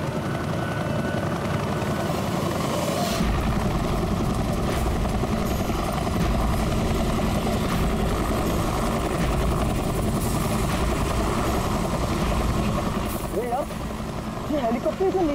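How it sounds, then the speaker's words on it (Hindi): A helicopter flies low overhead, its continuous rotor thrum and engine drone loud and steady the whole time, with people talking over it. "ये हेलीकॉप्टर इतना नीचे क्यों उड़ रहा?"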